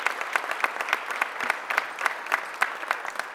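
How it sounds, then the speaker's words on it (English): A small group applauds at a mayor's press conference; close, fairly sparse clapping with distinct individual claps in an uneven rhythm, sustained through the short stretch. "Give everybody a huge round of applause."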